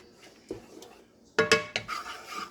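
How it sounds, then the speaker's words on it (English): Peach sauce coming to a boil is stirred in a pot, with a spoon clinking and scraping against the metal in a few sharp knocks and rubs, close and fairly faint. "Do a couple more stirs"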